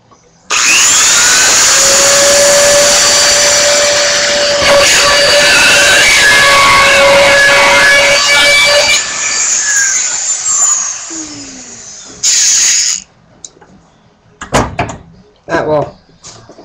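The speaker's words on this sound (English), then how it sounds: "I'm going to get that Dremel out and drill that out." A Dremel rotary tool drills a hole through a box for a homemade alarm, giving a loud, steady high whine for about eight seconds that winds down, followed by a few sharp handling knocks.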